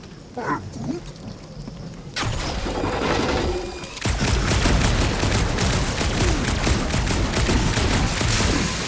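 Gunfire in Guardians of the Galaxy, starting with scattered impacts and crashes, then building into dense, continuous rapid bursts of shots and blasts, loud and sustained to the end.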